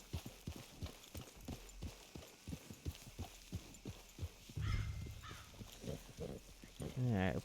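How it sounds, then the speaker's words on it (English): A horse in a video game trots and gallops, its hooves beating a steady, close clip-clop rhythm throughout, with heavier game sounds and a brief burst of activity near the end. "This horse is fighting me."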